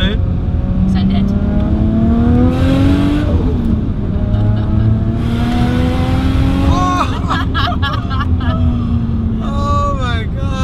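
A Nissan Skyline sports car accelerates hard in second gear, its engine note climbing steadily and loudly, then drops briefly at a shift before pulling again, with voices reacting over the roar.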